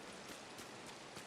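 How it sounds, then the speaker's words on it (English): Steady rain falls in the video game Disney Dreamlight Valley, an even, dense hiss of drops with no talk over it. "Why is it raining?"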